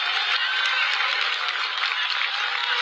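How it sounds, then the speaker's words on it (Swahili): Audience applause at the Magical Kenya Open at Karen Country Club in honour of Njoroge, a dense, steady burst of many hands clapping together that fills the whole moment without letting up. "Tumpigie makofi huyu Njoroge jameni."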